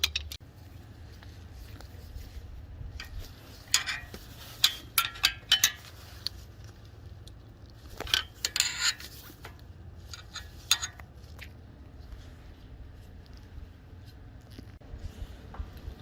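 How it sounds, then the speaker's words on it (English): Two screwdrivers prying on a 2018 Honda Civic brake caliper to push the pistons back, giving scattered metallic clicks, scrapes and short squeaks in clusters over a low steady hum, with quiet stretches between. "We're gonna start compressing the calipers. I'll put two screwdrivers, one here and one over here, and push."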